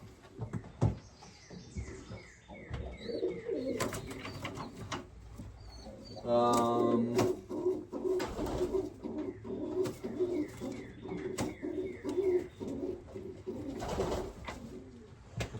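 Baby pigeons, young white birds in a loft, give soft cooing and chirping calls, close by and continuous, with a low rattling buzz midway and a person talking at intervals.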